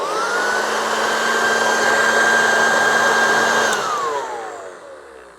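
A Hoover Junior U1104 upright vacuum cleaner, temporarily wired up after a refurb, running its motor with a steady high whine for a few seconds before switching off and winding down.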